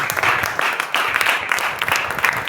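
A church congregation claps loudly after a prayer, a short, full burst of many hands applauding close by, steady and energetic throughout.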